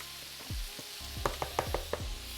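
Shrimp frying in oil make a soft background sizzle broken by a short run of sharp pops and crackles, fairly quiet overall with no talk.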